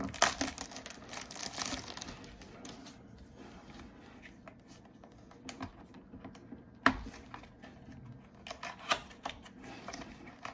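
A trading card pack wrapper is torn open by hand, giving faint, irregular crinkling and tearing rustles with a few sharper snaps and no talking.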